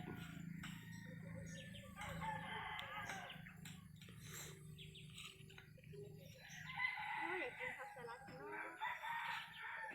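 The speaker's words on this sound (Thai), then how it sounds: "ไก่บ้านผมนะ" A backyard rooster crows twice in long, drawn-out calls with clucking around them, fairly close and clear over a low steady background hum.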